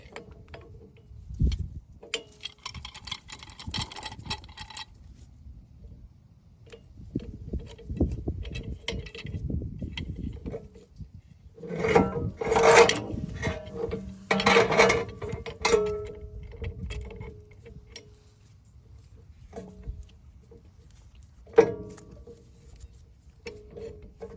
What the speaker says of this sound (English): we're gonna go ahead and pry out the old brake pads. Then we're gonna use the old brake pad right here to compress that piston back